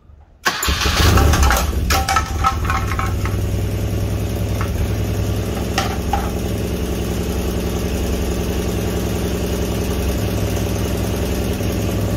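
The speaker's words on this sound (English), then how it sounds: "so not a bad sounding motor, right?" A 1976 BMW R90/6 airhead motorcycle engine cranks and fires after a brief silence, catching quickly and settling into a steady, loud, close lumpy idle.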